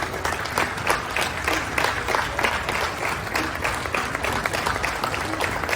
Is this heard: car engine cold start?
no